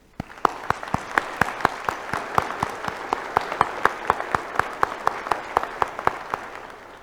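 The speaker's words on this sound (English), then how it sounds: "So please join me in recognizing all of their educational accomplishments with a warm round" Warm audience applause fills a college commencement ceremony hall, a dense, steady wash of many hands clapping with sharp individual claps standing out, sustained throughout at moderate loudness.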